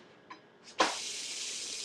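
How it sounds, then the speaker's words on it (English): A spinach pie quesadilla filled with egg whites, yogurt and feta is flipped in a pan, a couple of soft taps followed by a sudden loud burst of sizzling that settles into a steady, close hiss. "Hear that good sizzle."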